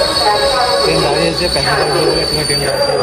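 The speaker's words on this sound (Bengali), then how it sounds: "4:41-এ কিন্তু ট্রেনটা কিন্তু ছেড়ে দিয়েছে। আমরা ঝালদা স্টেশনের দিকে কিন্তু রওনা দিচ্ছি।" A passenger train travelling from Asansol toward Jhalda rumbles steadily, heard from inside with continuous wheel noise, a high metallic squeal and a low droning hum throughout.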